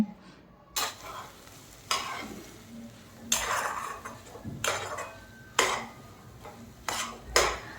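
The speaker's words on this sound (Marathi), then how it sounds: "आता हे सगळं घातल्यानंतर मी पुन्हा एकदा हे मिश्रण एकत्रित मिक्स करून घेत आहे" A spoon stirs spiced potato paratha filling in a bowl, giving repeated scraping, clinking strokes against the bowl at irregular intervals, close and clear with a faint sizzling background and no talking.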